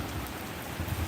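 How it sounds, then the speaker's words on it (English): Rain falls steadily outdoors near water, a dense even hiss of drops that holds at constant loudness through the short stretch, with no voices. "No coverage. We in the rain."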